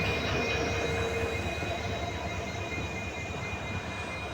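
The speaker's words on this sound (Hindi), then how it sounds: "ये देखिए बैलास्ट वैगन ट्रेन किस प्रकार से WDG हमारा लोको जो है वो इस बैलास्ट वैगन ट्रेन को लेकर के आता हुआ यहाँ पर" An East Central Railway ballast wagon train hauled by a WDG-4 diesel locomotive rolls past on the Mailani–Shahgarh line, a steady loud rumble of wheels with high thin squealing tones running throughout, no voices.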